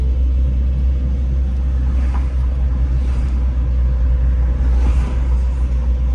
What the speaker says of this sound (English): Driving up Lancaster.